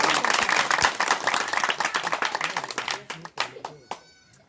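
Crowd clapping at an SP and SBSP political rally on an open ground in Haldharpur: dense, near, uneven applause that thins into scattered individual claps toward the end.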